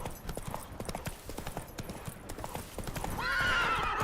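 Roach, the horse in The Witcher 3, clip-clops at a steady gallop down a mountain, hooves pounding close and rhythmic before a loud, shrill whinny rises over them near the end.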